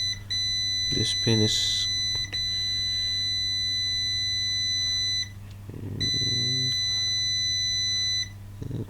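A multimeter's continuity beeper sounds while probing pins on a MacBook Pro A1278 logic board: a steady, piercing tone held for seconds, a short gap, then another sustained beep, with brief speech and handling noise.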